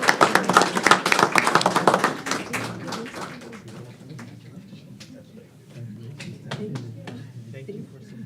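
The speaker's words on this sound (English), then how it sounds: "Big round of applause." Applause from the audience at a city council meeting, brisk and fairly close at first, then thinning into scattered claps as voices talk underneath.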